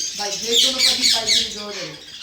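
Budgerigars at a wholesale bird shop in Mirpur, a close burst of chattering squawks and chirps with a voice speaking underneath.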